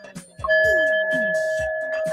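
Bells ring during a live Friday show, a sustained two-tone chime holding steady for about two seconds after some light knocks, close and clear, with a faint voice in the background.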